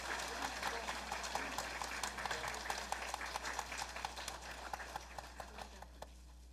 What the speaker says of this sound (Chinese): 让我们以最热烈的掌声感谢师尊的赐福